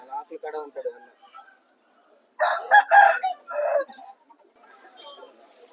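A rooster crows loudly once in a long, ragged call, with clucking and short bird sounds before and after.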